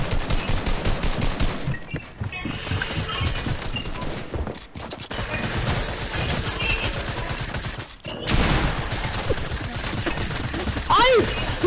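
Video game gunfire: dense bursts of rapid automatic shots, loud and close, with players talking over the shooting.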